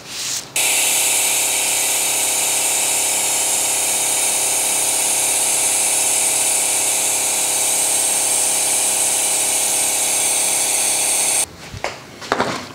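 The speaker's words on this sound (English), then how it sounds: "Just going to siphon out the fluid" Steady motorized pump drone runs loud and continuous while extracting power steering fluid from the reservoir of a Ford BA pump, ending abruptly near the end with a few clunks.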